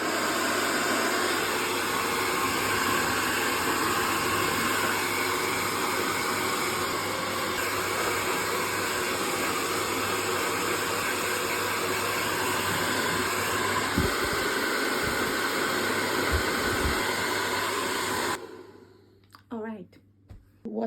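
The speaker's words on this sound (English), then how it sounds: "I will give it a go now so you can hear how it works" HappyGoo professional ionic hair dryer running, a steady loud whooshing airflow with motor whine lasting most of the clip, then cutting off abruptly, followed by brief handling noises.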